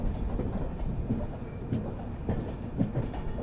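A train hauled by WAP-7 electric locomotives rumbles past near Chennai Central, with steady rail noise and faint clickety-clack from the wheels throughout.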